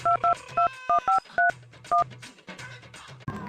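A telephone number is dialed with a quick run of separate touch-tone beeps, about eight clear tones in an uneven rhythm, and soft muffled room noise follows.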